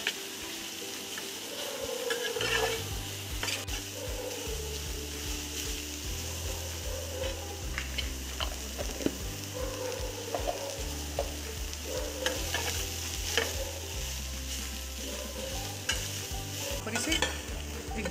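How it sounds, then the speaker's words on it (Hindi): Soya chunks being stirred in a pan as they fry, a steady close sizzle broken by repeated scraping strokes of the spoon in a regular rhythm, with no talking. "और इसे थोड़ी देर के लिए चलाएंगे जिससे इसका कच्चापन सा निकल जाए"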